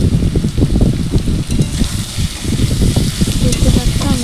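Taro frying with spices in a pan while being stirred, a steady loud sizzle with scraping and stirring clatter running throughout, no voices.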